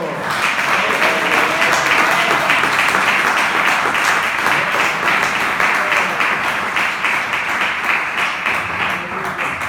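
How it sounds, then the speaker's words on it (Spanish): Applause from a church congregation during a sermon, a loud, dense clapping crowd sustained evenly for about ten seconds without letting up. "Un aplauso."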